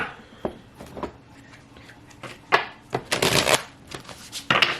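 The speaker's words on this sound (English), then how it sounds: "Let's pull some oracle cards for" A messages-from-the-heart oracle deck gets shuffled up close, with scattered soft taps building into denser papery riffles and a final flurry, fairly quiet and without talk.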